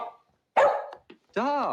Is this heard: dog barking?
yes